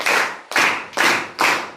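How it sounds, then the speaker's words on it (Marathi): Four sharp, evenly spaced hand claps ring out in a classroom of sixth-graders, each a bright crack with a short ringing tail, close and loud, in a steady rhythm about half a second apart. "आपण सर्वांनी टाळ्या वाजवून जोरदार टाळ्यांच्या गजरात स्वागत करूया."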